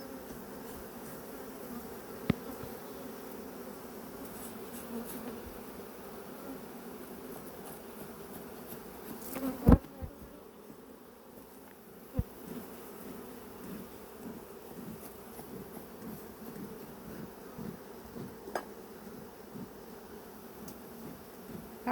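Honey bees swarm around an open backyard hive, a steady, dense buzz of many insects held close and continuous for the whole stretch, with a few soft knocks and rustles.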